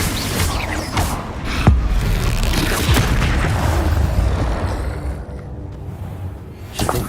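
Confringo fire spell explosions in the Hogwarts Legacy video game, several loud booming blasts with crackling debris tails, the strongest near the start, fading to a quieter rumble before one last burst at the end.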